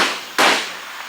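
A single sharp hammer blow struck at an angle against damaged car body metal, one loud crack standing alone and fading quickly.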